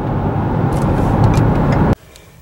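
Car engine idling with a deep, throaty rumble, steady and close for about two seconds before cutting off abruptly into near silence.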